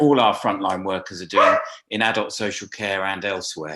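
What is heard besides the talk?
dog barking in the background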